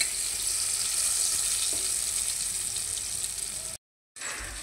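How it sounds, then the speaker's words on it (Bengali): Eggplant slices fry in a pan of hot oil, giving a steady, close sizzling hiss that runs unbroken for several seconds, then cuts out briefly and resumes. "এদিকে ভাজাটাও হয়ে যাচ্ছে। বেগুন ভাজা দিয়ে ভালো লাগে।"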